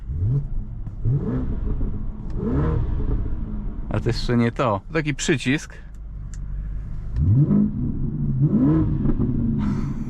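A 2008 BMW 650i E64 engine revs repeatedly in loud rising bursts, with a rapid high-pitched flurry of revs in the middle; someone talks briefly between them.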